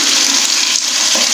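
Cooked lentils with their broth pour into a spice mix in one continuous, close, rushing splash of liquid, loud and steady with no voices.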